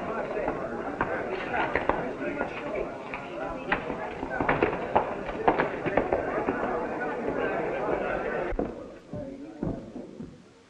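Gunfire in a 1937 western movie, a flurry of sharp shots and cracks crowded among hooves, shouting voices and general commotion, then a quick fade into a few scattered knocks near the end.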